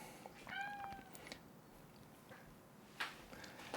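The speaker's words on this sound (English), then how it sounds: "the cat's in." A house cat meows a couple of times, faint and short, in a quiet indoor room during a home computer build, with no talking over it.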